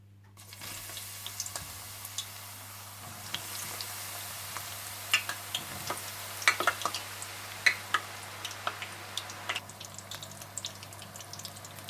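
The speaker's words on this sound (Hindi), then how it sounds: "आप तेल गर्म कर लीजिए और तेल में थोड़े थोड़े बैंगन डालकर फ्राई कर लीजिएगा" Pieces of eggplant sizzle and crackle in hot oil, with scattered pops growing busier, close and fairly quiet against a low background hum.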